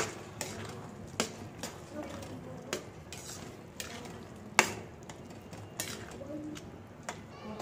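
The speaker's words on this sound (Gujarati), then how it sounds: "મિક્સ કરી દઈશું." Corn paneer sabji being stirred in a pan: a spoon scrapes and knocks against the metal in spaced, regular clinks over a low, quiet background.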